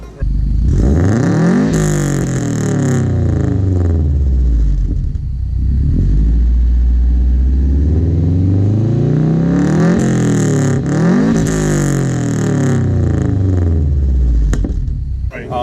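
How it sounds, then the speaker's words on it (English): A 2006 Subaru WRX with a big turbo and Cobb catback exhaust revs loudly up and down several times, engine pitch sweeping and falling in long rising pulls, close and dominant. "with the Cobb turbo, or the Cobb catback exhaust, it's one of the quieter exhausts for this platform"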